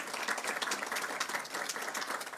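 Audience at a graduation ceremony for an executive master's cohort applauding the mayor of Ifrane, a dense, even patter of clapping that stays fairly faint and distant throughout.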